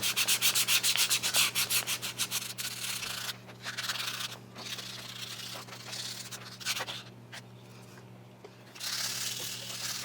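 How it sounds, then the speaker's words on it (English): A belt sander grinds a rubber rifle recoil pad in short, uneven passes, with a steady motor hum underneath and brief pauses between strokes. "so I'm going to put this on the belt sander just a hair"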